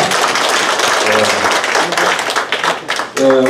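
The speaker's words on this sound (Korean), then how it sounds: "우리가 박수 한번 할까요?" Applause from the congregation at a Korean national prayer meeting, steady dense clapping throughout with some voices mixed in, briefly dipping near the end before swelling again.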